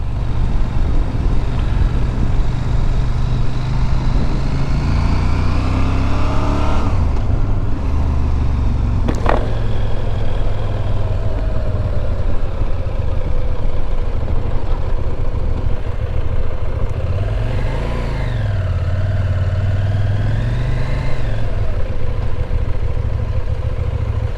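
A CFMOTO 800MT motorcycle ridden on an Australian road, its engine a loud continuous rumble with rising and falling pitch sweeps as it accelerates and shifts, mixed with heavy wind noise and one brief sharp click.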